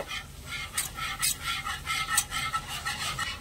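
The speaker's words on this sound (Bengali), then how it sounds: "আর দিয়ে দেবো জল, আর আমি ঠিক 1 কাপ মতনই জল নেব। জলের সাথে ভালো করে মিশিয়ে নেব।" Powdered milk stirred into about a cup of water in a bowl, a soft scraping swish repeating in a steady rhythm of strokes, close and fairly quiet with no talking.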